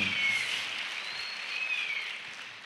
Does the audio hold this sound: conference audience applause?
yes